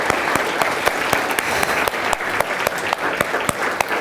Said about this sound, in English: Can everyone please join me in giving them all a big round of applause?